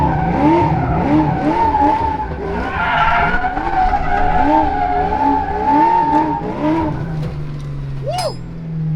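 A Fox body car with no power steering drives hard and skids. Its engine roars loud and close with sweeping pitch changes, and the tires squeal steadily, then a final rising screech sounds near the end.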